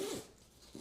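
A zipper is pulled shut around a fabric clothes packing cube, producing a quiet, brief rasping zip that starts, fades, and then catches again at the end.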